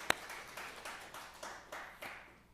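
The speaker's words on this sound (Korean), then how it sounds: "하나님께 영광의 박수 올리겠습니다." A church congregation claps at a retirement service for church officers, a soft, distant, rhythmic clapping in unison. About eight evenly spaced beats follow a single sharp tap at the start.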